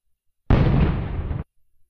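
Winchester Model 21 double-barrel shotgun fires a single loud, close blast in the World of Guns video game, a burst of about one second that cuts off sharply, with no talk.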